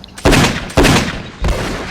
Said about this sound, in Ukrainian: Через декілька секунд за дверима пролунала серія пострілів.